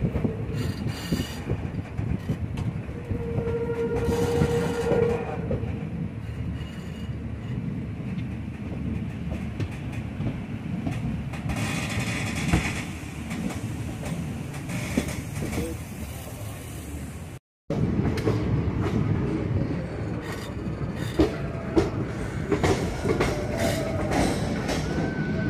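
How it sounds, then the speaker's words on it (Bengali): Poorna Express passenger train rolling steadily on the rails near Dudhsagar Falls, a continuous rumble and clatter with occasional wheel squeal, briefly cutting out before resuming; voices are faintly audible. "আমাদের ট্রেনটা এখন পাক খেয়ে ওই ওয়াটারফলসের কাছ দিয়ে যাবে।"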